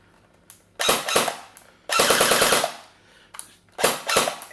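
A Double Eagle M89A UMP budget airsoft SMG fires several rapid full-auto bursts, loud and close, each a fast mechanical rattle separated by brief pauses.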